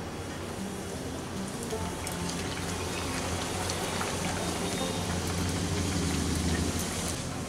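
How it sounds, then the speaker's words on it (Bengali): Kachori deep-fry in hot refined oil in a wok, giving a dense, even crackling hiss like steady rain that runs unbroken and close throughout, with no voices. "তেল গরম হয়ে গেছে, এখন আমি কচুরিগুলোকে একটা একটা করে ভেজে নিচ্ছি।"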